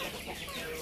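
A Plucker cross Shamo rooster gives a brief, faint cluck or call, heard alone at a distance.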